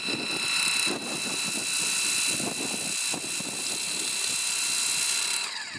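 Cecotec Hydroboost 20V cordless pressure washer running in eco mode, a steady, close motor whine with hissing water spray that holds fairly constant throughout, with no talk.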